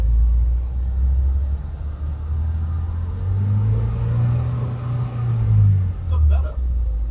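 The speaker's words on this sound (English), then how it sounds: "Let's rev it." A Ford Mondeo car engine revving, a close low rumble that swells and eases several times with rising pitch, under occasional talk.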